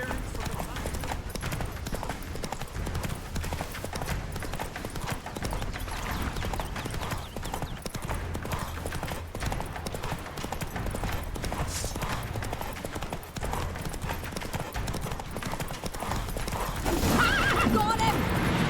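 Galloping hooves and a horse's whinny from The Witcher 3, a steady clip-clop rhythm throughout with a neigh near the end, under game speech and a dense background score.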